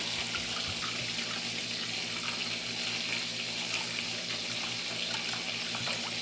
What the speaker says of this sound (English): I'm just going to put a little bit of water in here.